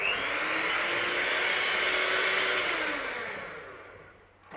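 A kitchen blender whizzes cake mixture with brandy and vanilla, giving a steady, loud whir for about four seconds before it winds down.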